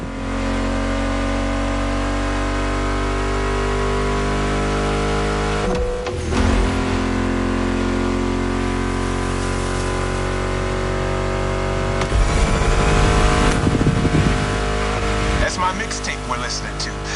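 Car engines in the racing game The Crew Motorfest give a steady loud drone with shifts and revving surges, mixed under a music soundtrack and a talking voice.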